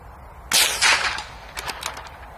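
.22 LR rifle shots at rabbit targets on a range, a sharp close crack followed by a second report and fainter, brief snapping echoes or impacts afterward, with no speech.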